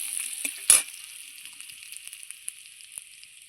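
Bay leaf and whole garam masala crackle in hot oil, opening with a sharp pop and then settling into a bright, steady hiss. Faint spits follow, and no voices are heard.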